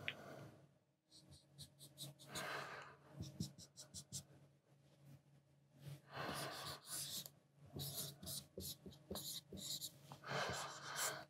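Pen strokes scratching across paper while an engineering tolerance diagram is drawn, bursts of quick scribbling and short strokes separated by brief pauses, close and fairly quiet.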